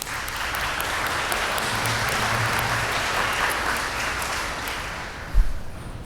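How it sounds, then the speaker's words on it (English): Audience at a college president's awards ceremony claps for an absent physical therapist assistant honoree, steady sustained applause filling the hall, with a short low thump near the end. "So let's give a round of applause."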